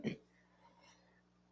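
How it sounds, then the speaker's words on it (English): Two short, sharp coughs, one at the start and one at the end, separated by a quiet pause. "I have a horrible cough"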